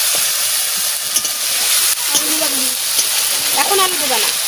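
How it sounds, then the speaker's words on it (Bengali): Chicken pieces and spices frying in hot oil in a pan for pulao, a steady loud sizzling hiss close by, with voices talking over it. "তারপরে মশলা মাংস ভাজা দিয়ে ভাজা দিবি"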